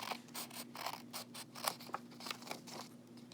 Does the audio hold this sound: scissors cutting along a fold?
yes